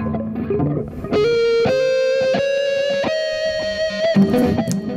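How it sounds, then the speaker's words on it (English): Heavily distorted electric guitar sustains a single note with wide, intense vibrato, preceded and followed by short choppy picked notes. "if you play with high gain distortion, the vibrato is more intense"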